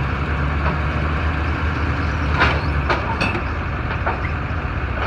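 A truck backing up produces a heavy, steady low rumble from close by, with a few brief knocks and clunks scattered through it.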